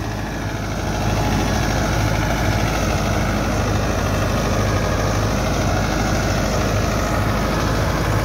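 A Massey Ferguson MF 385 tractor engine runs steadily close by while working a potato field with a rotavator, a continuous loud low diesel drone without pause.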